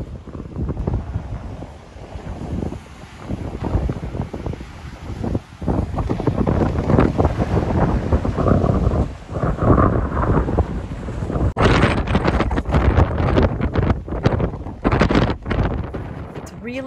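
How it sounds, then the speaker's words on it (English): Loud, blustery coastal wind at the Nubble Lighthouse, Sohier Park, York, Maine, buffets the microphone, rumbling and roaring continuously with gusts that swell and ease throughout. "windy outside here"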